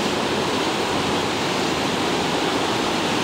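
Water rushes over Denny's Dam on the Saugeen River near Southampton, a steady, loud, close roar of broadband whoosh with no breaks and no voices.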